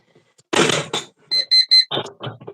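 A kitchen timer alarm gives a quick run of about three sharp electronic beeps, preceded and followed by louder clattering, indistinct sounds.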